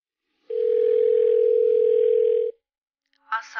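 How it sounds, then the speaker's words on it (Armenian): A telephone dial tone sounds as a steady, loud, unbroken tone for about two seconds and then stops, with a voice starting briefly just after it. "Մի հատ համար կա, կարող եմ հավաքել հեռախոսով հետ։"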